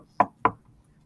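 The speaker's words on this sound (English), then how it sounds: "there was a knock at the door" Two firm knocks on a door, close and evenly spaced, each a short hollow thud followed by quiet.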